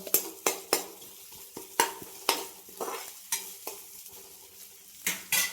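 Onions and green chillies sautéing in a pan, heard as a soft sizzle broken by repeated sharp scrapes and clinks of a spoon stirring against the pan, close and fairly quiet.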